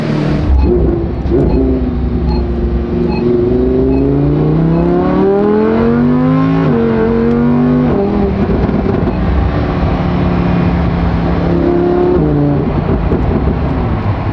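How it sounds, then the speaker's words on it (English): A loud Lamborghini V10 engine with a titanium exhaust revs repeatedly, pitch climbing and dropping in sweeping surges, continuous and close for the whole stretch. "no matter what exhaust you put on this car, the V10 is always gonna sound really freaking good."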